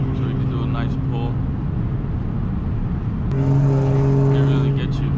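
Audi supercharged V6 car pulling hard from the driver's seat on a dark road, steady engine drone rising in pitch as it accelerates, the note growing louder and harmonically richer partway through.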